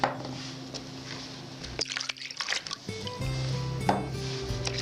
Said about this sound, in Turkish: Yumurtayı ve sütü çırpma kabına alıyorum.